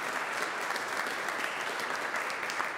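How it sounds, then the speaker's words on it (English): A church congregation gives sustained applause during a Youth Sunday service, many hands clapping in a dense, steady roar that stays strong and even from start to finish with no talk over it. "let's just give a round of applause"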